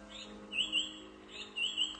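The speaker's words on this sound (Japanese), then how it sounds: "鳩時計を部屋に置いてます。" Cuckoo clock in a room giving two soft, evenly spaced pairs of bird-like chirping calls over a quiet background hum.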